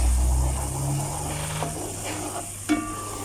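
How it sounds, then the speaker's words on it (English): Thick gram flour and sugar syrup for Mysore Pak is stirred in a hot pan, a soft bubbling sizzle with scraping spoon strokes and a sharper clack near the end, heard up close with no talk. "Just give this a stir."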